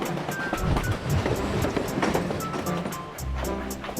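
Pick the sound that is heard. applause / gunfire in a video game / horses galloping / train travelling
train travelling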